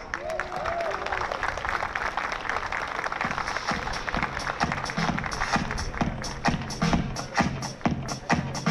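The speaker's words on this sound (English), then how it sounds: "A round of applause." A hall audience at a STEM community program breaks into full, sustained applause, a dense and even wash of clapping from many people.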